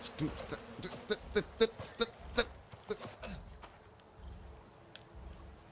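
Bees buzz in short, repeated bursts in the survival video game Icarus, fairly close, then fade into a quieter background hum.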